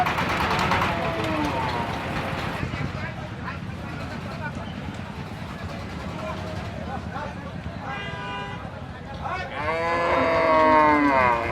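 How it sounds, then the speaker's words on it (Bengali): A large Sahiwal cow moos repeatedly and loudly amid the bustle of a cattle market during unloading, with drawn-out lowing calls near the start and end, while people talk throughout and a vehicle horn toots faintly. "বড় এবং রাগী টাইপের কিন্তু একটি গরু, শাহিওয়াল জাতের গরু"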